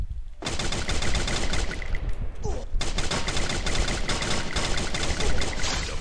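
Rapid, dense gunfire from a SPAS-12 shotgun in the mobile battle game Free Fire, a loud sustained barrage of shots with a brief lull midway before the firing resumes.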